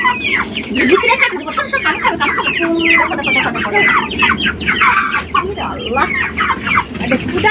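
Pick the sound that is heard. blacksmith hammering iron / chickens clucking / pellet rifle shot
chickens clucking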